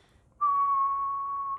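One person whistling a single steady tone, starting abruptly and held clear and close for just over a second before cutting off.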